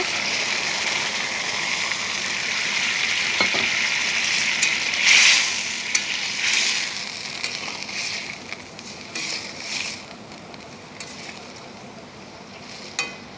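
A bowl of water poured onto spices and dried red chilli sizzling in a hot pan gives a broad hissing rush, flaring loud around the middle then settling into softer bubbling and crackles; no talk.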